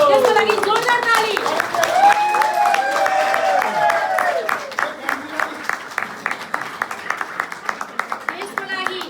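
Audience clapping at the first screening of a Nepali feature film in Lamjung, a steady crowd of hands fading into scattered individual claps, with a voice speaking over the start.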